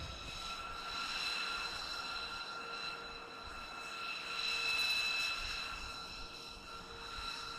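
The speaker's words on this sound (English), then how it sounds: "paused at the threshold, brought the engines to full power, and began their takeoff rolls" Military jet engines roar at full takeoff power on a runway with a steady, high-pitched whine that swells and ebbs slightly, loud and continuous throughout.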